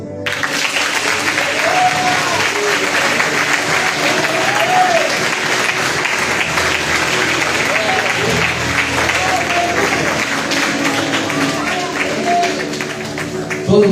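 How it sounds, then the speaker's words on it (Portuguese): A church congregation applauds at an evening cell conference, with sustained, loud, dense clapping throughout and voices calling out over it. "Aplauda o Senhor."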